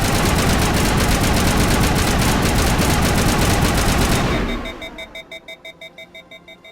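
Rapid automatic gunfire from Mass Effect 1, set in a galactic government hall, sounds as a loud sustained burst of close shots that breaks off, leaving a few spaced, ringing reports fading out.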